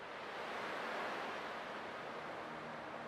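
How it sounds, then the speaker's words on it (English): Ocean waves washing in a Honkai: Star Rail game scene, a steady soft broadband surf hiss throughout, moderately quiet with no speech. "I can still clearly hear the sound of the waves."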